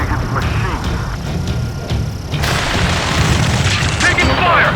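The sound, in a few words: gunfire and explosions in the video game Ace Combat 7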